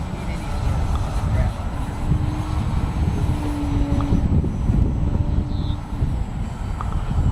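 A Parkzone P-47 radio-controlled model airplane flying in heavy wind, its faint thin propeller whine rising and falling at a distance beneath strong, rumbling wind buffeting, with people talking nearby.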